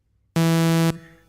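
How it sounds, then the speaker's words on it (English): A game show contestant buzzer sounds during a test before the round, one loud, steady electronic tone lasting about half a second that then cuts off abruptly. "Let's do the buzzer test."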